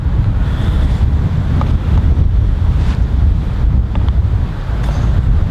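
Strong wind of about 50 km/h blowing across an outdoor golf practice area, a loud continuous roar and buffeting against the microphone with no talking.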